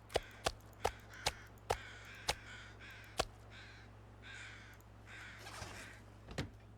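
Crows cawing in the snowy wilderness of the survival game The Long Dark, about eight sharp, evenly spaced caws in the first three seconds, then a softer chatter of calls over a steady low hum.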